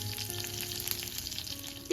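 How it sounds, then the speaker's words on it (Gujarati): Cumin and green chili roasting in a pan, giving a dense, steady close sizzle that crackles throughout, ending in a brief louder hiss, no talking. "હવે એક મિનિટ જેવું આપણે એને શેકાવા દઈશું"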